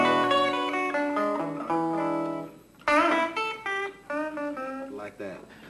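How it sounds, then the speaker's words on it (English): An electric guitar plays a run of jazzy dominant ninth chords, each chord struck separately and left to ring, with a short pause in the middle of the passage. The playing is clear, close and unaccompanied. "He was playing like dominant ninth chords"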